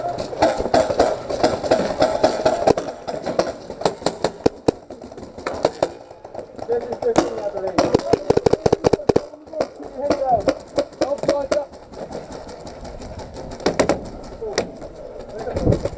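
Paintball guns fire during an urban paintball game, with bursts of rapid popping shots in clusters, loudest midway, as players shout and talk over the action.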